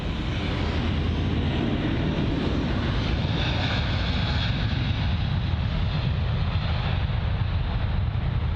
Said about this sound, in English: the big boy, the British Airways A380 there, and that's taxiing for departure